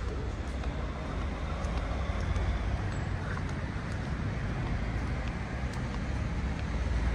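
Street traffic runs past a hotel on the French Riviera, a steady low roadway rumble of passing cars at moderate distance, with faint clicks and small sounds scattered over it.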